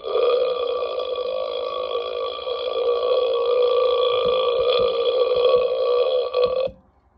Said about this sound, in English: I put a burp on here